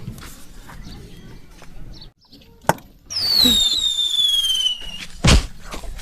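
A firecracker bursts outdoors during a Gujarati comedy skit: a sharp crack, then a rising-and-falling whistle, then another loud bang near the end, with faint voices and background noise.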